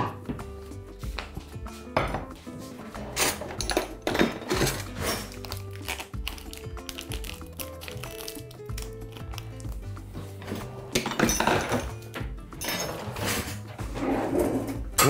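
A small cooking pot is picked up and handled in a home kitchen while lentils and rice are readied for dolma, with repeated close clatters, knocks and light metallic bumps scattered over several seconds.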